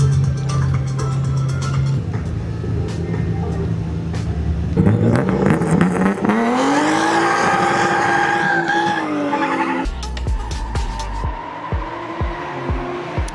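Race cars, including a BMW E46, driving on a track, with loud engines revving and shifting, tires squealing and skidding, and cars passing close by in a continuous roar.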